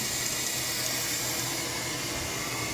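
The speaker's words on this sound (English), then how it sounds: "So okay, so the water back on. It is running." Water rushes steadily into a toilet tank through a newly replaced fill valve after the supply is turned back on, a constant close hiss and gush with no voices.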